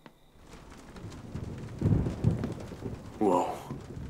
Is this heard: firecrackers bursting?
no